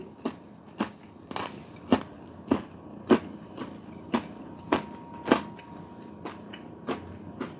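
Crunchy end piece of Irish soda bread with raisins chewed close to the mic, a steady series of about a dozen sharp, evenly spaced crunching bites with no talking.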